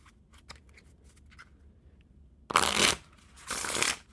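A thick-stock deck of Divine playing cards by Elite Playing Cards fanned out close by, giving two brisk papery riffling bursts separated by a short pause, with faint handling ticks before them.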